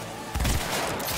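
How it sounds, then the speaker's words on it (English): Pistol gunfire in the video game Cyberpunk 2077: a sudden loud burst of shots, then a sustained, dense rattle of noisy action continuing to the end, with no speech. "I missed him and I shot the other guy in the leg"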